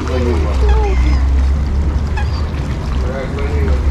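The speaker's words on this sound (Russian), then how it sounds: "Смотрите, какие утки." Waterbirds call in short honking bursts over a steady low engine hum at the seafront near yachts in Sochi, with people talking nearby.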